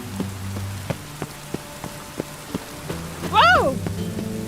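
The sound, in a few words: rain in the city, from the video game The Witcher 3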